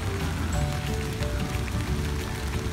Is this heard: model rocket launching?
no